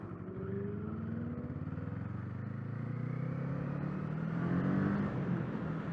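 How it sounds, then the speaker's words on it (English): A 2024 Kawasaki Eliminator motorcycle cruises steadily along the road, its engine holding a smooth, continuous drone that swells slightly midway, with wind noise mixed in and no voices. "you can cruise for a while on this motorcycle"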